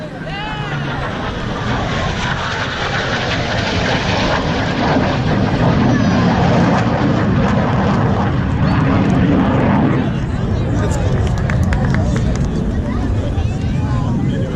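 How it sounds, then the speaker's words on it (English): A Blue Angels jet roars past on a low pass during practice at Pensacola, Florida, its engine noise swelling and fading with heavy wind buffeting, and people talking faintly in the background. "All it takes is one airplane doing the low pass."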